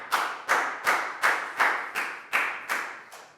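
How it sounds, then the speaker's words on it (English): Nine sharp, evenly spaced claps ring out close by in a steady rhythm, loud and alone, like one person clapping. "High five and a big round of applause for Pangpon."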